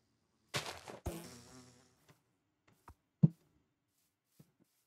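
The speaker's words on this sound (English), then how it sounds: "I'm gonna slap a bee" A bee in Minecraft gives a short buzzing burst followed by a few faint, scattered clicks and taps, heard alone with no talk.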